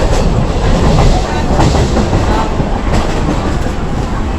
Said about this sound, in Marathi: आता ट्रेनमध्ये आहोत.